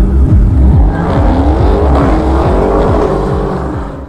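A powerful 500-horsepower car revs loudly and pulls away, its engine note climbing through several gear changes up close, then easing off slightly, with no talking.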